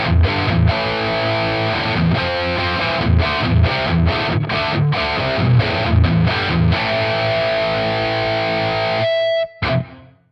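An electric guitar played through a NUX amp modeler with a boost engaged gives a loud, distorted tone, strummed chords and riffs in a steady rhythm, ending with a sustained ringing note that cuts off abruptly.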